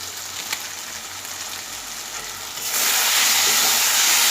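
Spices such as coriander and cumin powder fry and sizzle in a pan for a folli fish curry with green banana, a steady hissing sizzle that swells louder partway through as water is added to the masala.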